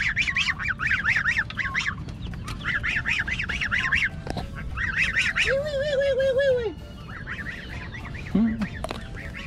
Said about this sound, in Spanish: Gansos son.